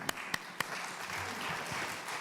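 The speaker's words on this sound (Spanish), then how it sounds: "Un aplauso." Soft, distant audience applause at a talk on addiction and the family, with a few sharper individual claps near the start before settling into a quiet patter.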